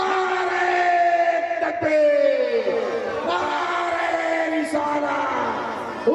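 Large crowd at a jalsa dastarbandi gathering shouting Allahu Akbar in unison in answer to Nara-e-Takbir, a sustained loud chorus of voices with a drawn-out, falling tone.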